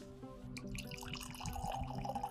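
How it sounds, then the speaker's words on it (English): Four Roses 135th Anniversary bourbon pours from the bottle into a glass, a close, steady liquid trickle with small splashes that grows slightly fuller over about two seconds, with no talking. "So I'm gonna pour some of this out"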